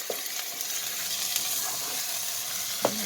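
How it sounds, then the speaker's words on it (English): Chili cooks in a pot with a 28-ounce can of diced tomatoes. A soft, steady sizzle and simmer runs throughout, with a couple of faint scrapes from stirring and no voices. "Get that all stirred up in there and get that cooking."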